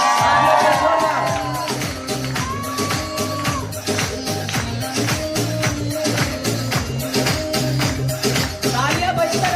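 An audience at an event applauds and whoops in a steady, rhythmic burst of clapping with scattered cheers and shouts, lively and close, while loud music plays underneath.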